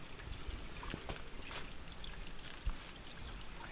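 Water flowing from a natural spring outdoors, a faint steady trickle and pour with soft splashing, low and continuous, with no speech over it.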